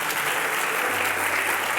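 A church congregation claps steadily for the Lord during a sermon, a dense, even wash of many hands that fills the room without pause.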